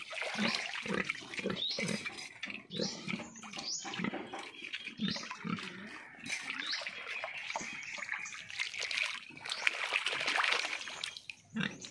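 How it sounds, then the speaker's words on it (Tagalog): A pig grunts and oinks while swimming in the sea at high tide, with sloshing, splashing water over a steady wash of background noise, the animal close by. "Yung baboy nag-swimming."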